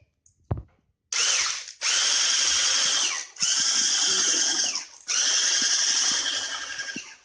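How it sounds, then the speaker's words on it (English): An electric hand beater whirs through cinnamon roll batter in three long bursts separated by short pauses, loud and close, with a small knock at the start. "we'll be using a beater and we'll be beating it"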